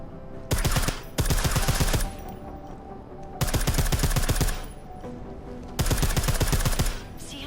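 Suppressed gunfire from the video game Deus Ex: Mankind Divided, three long sustained bursts of rapid, evenly spaced shots separated by brief pauses, loud and close over a steady background hum.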